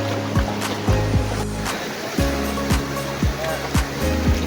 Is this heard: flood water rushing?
yes